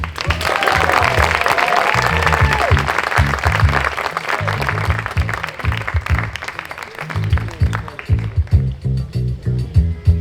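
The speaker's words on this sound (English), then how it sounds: "Clap it up for Joe Klosik." A comedy storytelling audience claps for a comedian coming onstage: sustained, dense applause that stays loud throughout, dipping briefly and then surging again, with low thumping music pulsing underneath.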